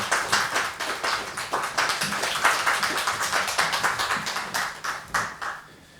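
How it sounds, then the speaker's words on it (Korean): A church congregation claps in steady applause for several seconds, a dense patter of many hands at moderate distance that thins out toward the end. "박수 한번."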